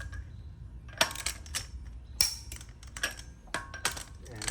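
A torque wrench set to 125 foot-pounds rechecks wheel lug nuts, giving sharp, close metallic clicks at irregular intervals over a quiet background.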